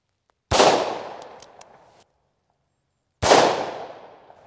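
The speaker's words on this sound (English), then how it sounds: "When you shoot this thing, you know you got a hold of something in your hand here." Two loud, sharp gunshots from a Bond Arms derringer firing .410 Hornady Critical Defense shells outdoors, each a single close blast with a ringing decay, spaced about three seconds apart.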